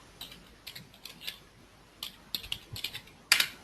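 Bursts of typing on a computer keyboard, quiet and close, with irregular clusters of key clicks separated by short pauses and a sharper flurry near the end.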